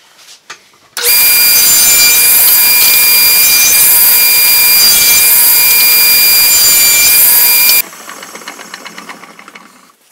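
A power saw cuts wooden trim down to three inches, running loud and steady for several seconds before stopping, with a quieter shop noise trailing after.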